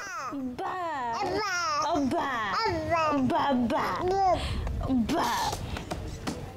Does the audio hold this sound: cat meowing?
no